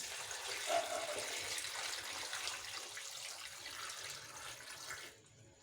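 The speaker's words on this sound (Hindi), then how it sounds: "काटने के बाद अब इसके अंदर 2 लीटर पानी डालेंगे" Two liters of water poured from a tap or container into a pot of chopped tomatoes for homemade tomato ketchup, a steady splashing rush lasting about five seconds before cutting off.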